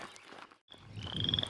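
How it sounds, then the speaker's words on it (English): Frogs croak repeatedly in the early morning outdoors, a steady layered chorus that stops briefly, returns and grows louder toward the end, with a thin high trill rising over it. "Frogs. You don't hear that midday."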